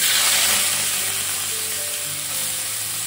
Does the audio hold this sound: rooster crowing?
no